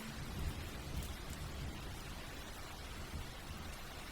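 Steady rain falls throughout a historical drama scene, a soft continuous hiss with a faint low rumble underneath, fairly quiet and with no voices.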